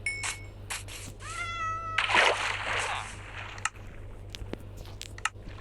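A cat meows several times in a video game, short rising cries near and clear over a low game hum, followed by a burst of splashing noise.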